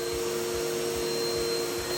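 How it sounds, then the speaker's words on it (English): A vacuum cleaner runs steadily in an attic near a bathroom fan, sucking up loose debris, a constant close motor whine with a faint periodic thumping underneath. "I'm gonna get a vacuum, clean this stuff out"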